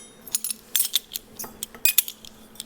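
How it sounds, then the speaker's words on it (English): A spoon clinks and scrapes against a bowl in quick, bright, uneven taps while stirring ground allspice, cloves and black pepper together, close and clear. "And then use your spoon to stir it all up."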